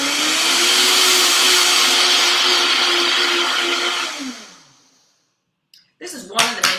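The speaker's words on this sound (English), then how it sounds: "This is one of the many things that a Vitamix is great for, to be able to do this." A Vitamix blender pulses buckwheat and quinoa grains with a loud, steady whirring roar that winds down over about five seconds, leaving silence and then a few short knocks and clatters.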